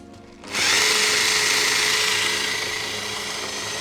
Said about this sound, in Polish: myślę, że możemy spróbować uruchomić wiertarkę